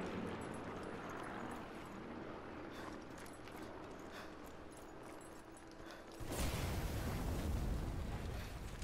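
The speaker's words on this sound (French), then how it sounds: "Si t'entends des explosions, c'est tout à fait normal." Explosions and gunfire-like rumble in the World War II stealth shooter game Sniper Elite 4, a steady dense roar that swells louder and rougher in the final seconds, with no talk.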